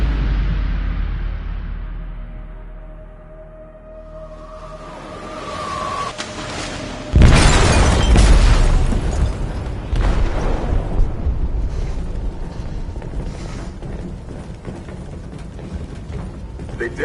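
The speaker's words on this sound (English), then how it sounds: "They detonated an explosive in the hold." Explosive detonated in a ship's hold in Detroit: Become Human: a low rumble and mechanical creaking build up, then a sudden loud boom hits, followed by a long churning roar of debris and groaning metal.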